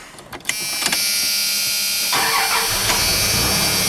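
A late-1990s Dodge V8 cranks and fires after an oil pump replacement, settling into a loud, steady run that holds close to the microphone, with a brief click just before the start.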